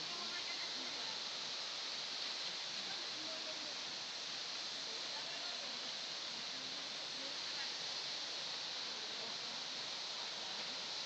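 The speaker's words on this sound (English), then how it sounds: "Trapsewu waterfall near from the city." The Trapsewu waterfall near Lumajang pours in a steady, broad, hissing rush that stays even and unbroken throughout, heard from some distance with no voices over it.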